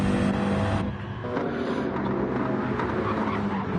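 Sim race cars at Goodwood circuit, a BMW among them, roar continuously with dense overlapping engine drone and shifting revs, loud and steady with no talk over them.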